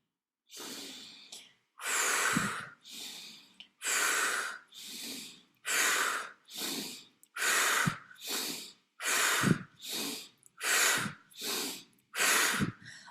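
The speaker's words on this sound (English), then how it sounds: "breathing in through the nose and out through the mouth" Deep, rhythmic breathing during a guided inner child healing practice: a steady series of audible breaths, each drawn in through the nose and released through the mouth, close and fairly loud, repeating about a dozen times with no talking.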